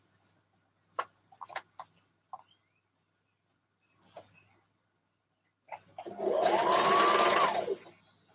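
A sewing machine stitches dress fabric in one steady, fairly loud run near the end, after a few scattered light handling taps and clicks.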